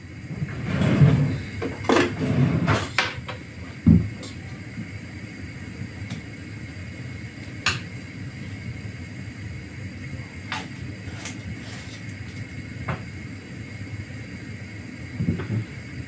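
A cupboard door left stuck halfway open knocks and bangs in a home, with a cluster of loud clatters early on, a sharp hit near four seconds, then scattered lighter knocks over steady background hiss.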